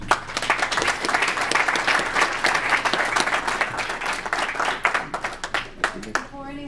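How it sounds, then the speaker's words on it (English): Audience at a community college gathering bursts into sustained, dense clapping that holds steady for several seconds, then thins out into a few scattered claps as a voice begins to speak. "I would like to ask us to applaud ourselves"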